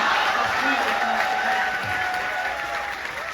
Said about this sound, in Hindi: धन्यवाद दोस्तों, इतनी तालियों से मेरा मान बढ़ाने के लिए